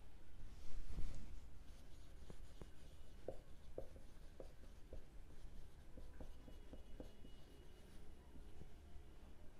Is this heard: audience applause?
no